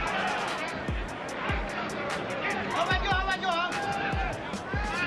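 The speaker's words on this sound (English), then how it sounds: "Once again, the crowd roaring on every González punch." Boxing arena crowd at a González versus Pascua bout, a steady roar of spectators swelling under a ringside commentator's voice, with repeated low thumps punctuating the din.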